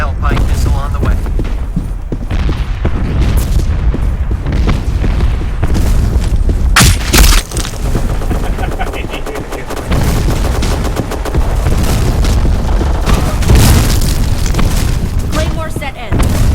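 Loud, continuous battle din from Company of Heroes 2, with booming missile-strike explosions and rattling gunfire layered densely throughout and a particularly heavy blast partway through.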